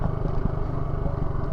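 A motorcycle engine runs with a steady, close, rumbling drone while riding off-road through jungle, loud and continuous with faint rattling.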